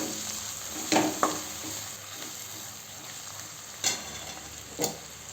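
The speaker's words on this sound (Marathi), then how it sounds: "चांगल्याने फिरवून घेऊ।" Spatula stirring turmeric, chili powder and salt in a hot pan for chavli bhaji gives a few short scraping clicks over a steady low sizzle.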